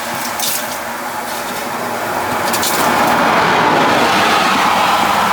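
Steady hissing splash of water poured onto an overheated brake drum from burnt brakes, broadband and continuous, growing slightly louder toward the end, with no voices.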